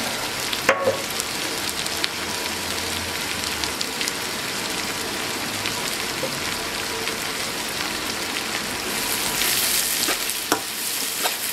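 Chopped onions fry toward brown in a pan, with a dense, continuous sizzle like rain on a surface and occasional stirring scrapes, close and fairly loud, no talking.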